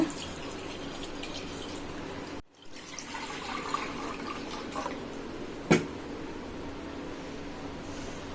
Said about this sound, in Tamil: ஒரு பவுலுக்கு ஒன்றரை ஊற்றணும் தண்ணி அதனால இந்த ஒன்று ஊற்றிடுறேன் முதல்ல